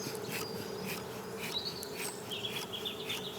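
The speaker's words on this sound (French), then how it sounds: "moi, je me fie au son des abeilles" A low, steady buzz of many honeybees in a hive hums close by, with faint chirps and short high tones drifting in over the drone.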